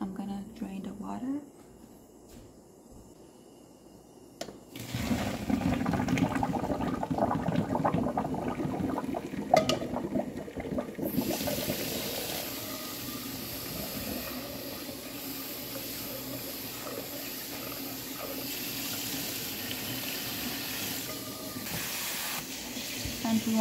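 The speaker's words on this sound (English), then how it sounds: "I'm gonna drain the water." Water from half-cooked rice gushes and splashes steadily as it pours out through a colander, a loud rushing hiss following a quieter start.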